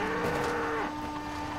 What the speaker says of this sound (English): Why are you running into cows?